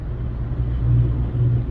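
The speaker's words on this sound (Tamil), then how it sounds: "ஆப்போசிட்டில் வண்டி வந்துட்டுருக்கு." A vehicle on a road gives a steady, close engine rumble that swells slightly over a brief moment, with no talk.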